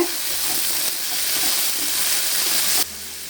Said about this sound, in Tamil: தக்காளியும் சேர்த்து நல்லா வதக்கிக்கோங்க.